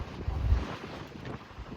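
Strong gusty wind buffets outdoors around abandoned 1978 Ford Broncos, a low rumbling roar that swells loudly early on then settles into uneven, blustery gusts.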